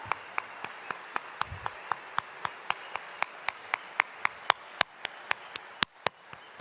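Slow rhythmic clapping, sharp evenly spaced claps about every third of a second, ringing in a large hall with a faint crowd murmur beneath, at an event honouring Sadhguru and Isha Foundation volunteers in Mumbai.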